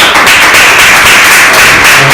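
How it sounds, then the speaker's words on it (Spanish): Classroom applause welcoming a visiting group, a steady dense wash of many hands clapping together at close range for a couple of seconds, no voices over it. "le vamos a dar nosotros un aplauso a ellos porque nos están recibiendo"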